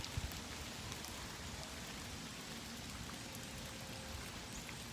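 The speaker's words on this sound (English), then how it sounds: "Oh, starting to rain a little harder." Rain falling on water where ducks swim, a steady soft hiss of drops, fairly faint and continuous, with no voices.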